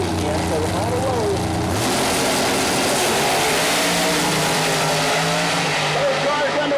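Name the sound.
Nitrous Pro Mod drag cars launching down the strip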